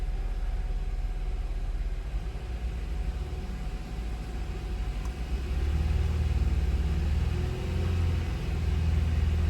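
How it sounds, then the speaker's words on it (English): Car engine revved from idle to about 2,500 RPM during a tailpipe emissions lab, a loud steady close rumble that swells a little partway through. "I'm going to step on the gas to increase the RPMs"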